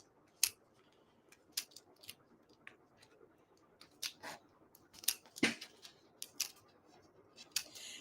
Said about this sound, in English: I need to take your pick tool to get rid of those backings